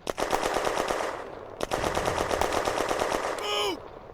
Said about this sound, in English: Couderc continues firing at the German machine gun nest